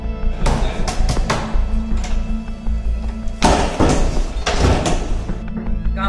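Heavy thuds of a door being banged on to force it open, several loud blows in clusters with pauses between, close and forceful over a low background rumble.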